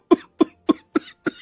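A man coughs loudly five times in a quick, even rhythm, each sharp hacking burst close and clear with short silences between.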